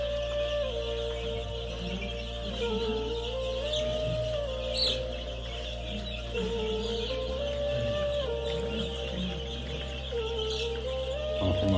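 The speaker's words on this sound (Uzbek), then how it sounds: "vodiyga borib zakaz berib kelgan jo'jalarimiz yetib keldi." Leghorn chicks from a laying breed peep and cheep steadily in a large brooder pen, a dense, continuous chorus of high chirps with a constant low hum underneath.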